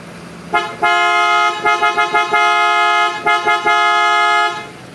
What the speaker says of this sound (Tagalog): napakalakas ng busina mga boss